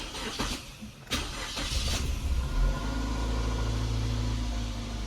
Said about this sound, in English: So now let's try to just start the engine.